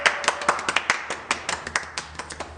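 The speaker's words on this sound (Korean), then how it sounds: "하나님께 영광의 박수 드리겠습니다" A church congregation at a children's community worship service claps in a brisk, uneven burst of sharp, close hand claps that continue steadily for a couple of seconds.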